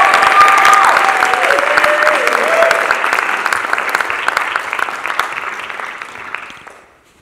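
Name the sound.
audience applause for a dance troupe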